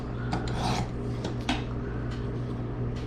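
A knife blade is drawn across a Worksharp precision sharpener in short rasping strokes, a few quick scrapes up close over a low steady hum.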